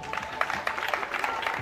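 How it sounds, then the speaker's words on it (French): Applause at a school awards ceremony, steady clapping from a crowd at moderate distance, continuous and fairly faint throughout. "Ça mérite vraiment un tonnerre d'applaudissements."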